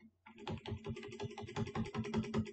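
Quick, close keyboard typing in Excel, a dense even run of soft key clicks after a brief pause, with no one talking.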